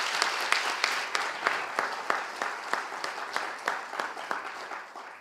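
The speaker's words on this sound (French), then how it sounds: "nous pouvons applaudir nos oratrices et nos orateurs de ce soir" An audience at a French high-school eloquence prize and debate cup ceremony applauds the student speakers, a dense, steady clapping with some louder individual claps standing out, sustained throughout.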